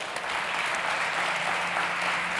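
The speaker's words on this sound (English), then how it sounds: "a big round of applause for our jury" An audience at a startup pitch stage event at South Summit 2022 breaks into steady, dense applause for the judging jury. The sound is loud and sustained throughout, with no voices over it.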